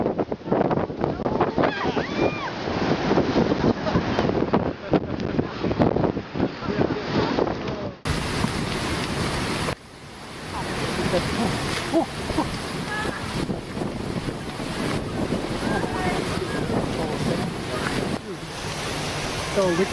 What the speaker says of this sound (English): This couple and their dog think they are a safe distance away from the waves, but you should never underestimate the power of the ocean.